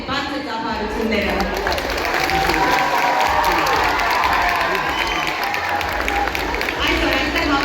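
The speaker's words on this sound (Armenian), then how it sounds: "այդ բարձր ծափարությունները" Loud, sustained applause and cheering from a large crowd at an international dance competition in Gyumri, Armenia, with dense clapping that runs unbroken throughout.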